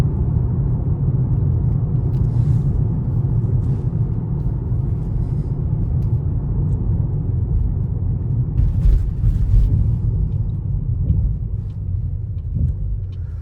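A Mercedes-AMG GT63S drives through a city at night, giving a steady deep engine rumble heard from inside the cabin, loud and continuous with small swells.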